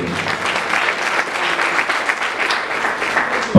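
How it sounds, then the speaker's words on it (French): Audience applause at an event in Guédiawaye, a steady dense clatter of many hands clapping together for the full stretch, loud and unbroken, with no talking over it. "je voudrais un amas d'applaudissements pour vous-même"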